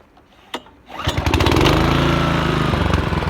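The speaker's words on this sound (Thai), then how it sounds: "เดี๋ยววันนี้เราจะมาลองเครื่องตัดหญ้าฮอนด้าให้ดูนะครับ" A click and brief quiet, then a small Honda lawn mower engine, about six horsepower, starts up and settles into a loud, steady chugging rumble close by.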